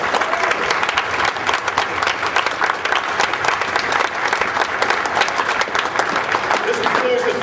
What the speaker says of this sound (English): let's give all of our demonstrators one big round of applause